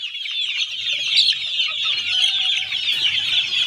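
Imported-line gamefowl roosters clucking nearby, a dense overlapping chorus of short high clucks and chatter, steady and fairly loud, with no talking.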